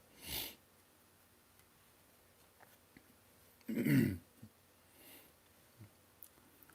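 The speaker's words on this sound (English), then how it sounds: "I apologize ahead of time for the sniffling and all that" Close sniffles through the nose, a short one, then a louder wet sniff, followed by a couple of fainter ones in a quiet room.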